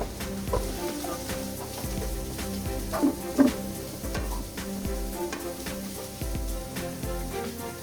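Fresh asparagus spears hand-tossed onto a pan before oven roasting, landing in a scatter of soft clattering thumps and rustles, with a couple of louder knocks midway and low kitchen background throughout.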